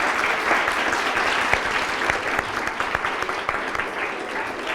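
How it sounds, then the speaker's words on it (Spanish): Audience applause for student debate participants at a bilingual school, lively rhythmic clapping with sharp individual claps standing out over the crowd, close and fairly loud throughout. "Ritmo, por favor, un aplauso para ustedes,"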